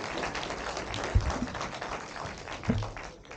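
Audience applause during a question-and-answer session at the Asian Film Festival in Dallas: a dense, steady wash of clapping that fills the room, with a couple of louder thumps standing out.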